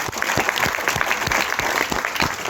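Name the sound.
audience applauding for the speaker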